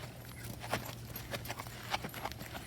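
Hooves of a ridden mare during a schooling session, landing in an uneven rhythm of soft, close thuds over a steady low hum, with no talk.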